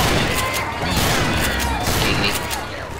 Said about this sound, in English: this is really good pistol